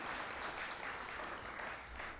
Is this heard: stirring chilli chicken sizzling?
no